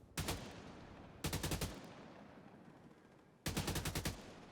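Three rapid bursts of gunfire ring out while shooting a lock in The Division 2 on hardcore mode, each burst a tight string of loud, close shots with quiet gaps between.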